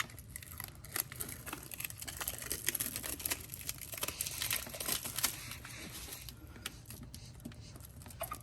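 Plastic backing and painter's tape being peeled from an illuminated door sill on a Tesla Model 3, giving close, steady crinkling and tearing rustles with small ticks throughout, no talking.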